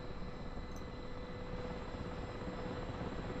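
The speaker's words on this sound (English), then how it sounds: "I hear a helicopter." Mi-8 helicopter in the DCS flight simulator, a faint steady rotor and engine drone held under a constant cockpit hum with no clear rise or fall.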